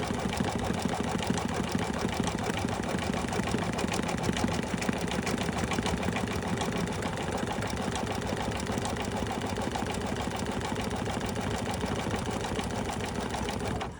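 A sewing machine stitches layers of fabric together for a hat ear holder, giving a close, continuous rapid mechanical whir with even rhythm throughout.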